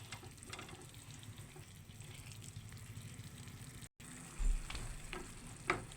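Pork ribs sizzle quietly in a pan as they are stirred, with soft scraping and a few louder clatters toward the end. The sound is low and continuous, with a very brief dropout midway and no talking.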